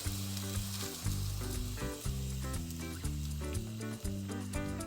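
Celery pieces frying in a pan, a steady soft sizzle heard under louder background music with a repeating tonal melody, with no talking.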